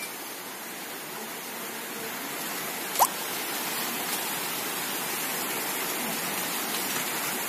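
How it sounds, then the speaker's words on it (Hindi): A waterfall flowing below a mountain pilgrimage path on the Gangotri to Kedarnath route: a steady, broad hiss of rushing water filling the whole clip, with one brief sharp tick partway through. "ये हमारे संजय बोले और हरिराम बोले नीचे झरना जो जा रहा है उसमें उतर गए हैं"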